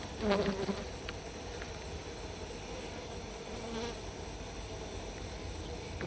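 Wild dwarf honey bees swarm around their nest in a forest, a steady insect buzz that stays low and continuous, with a brief louder burst near the start, heard with no talking.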